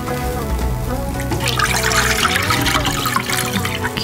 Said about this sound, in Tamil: தண்ணி ஊத்தட்டுமா?